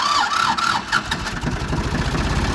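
A Ford 2600 tractor diesel engine, not run for years, cranks and catches with a loud, rough, close-up rumble that settles into a steady run. No one speaks.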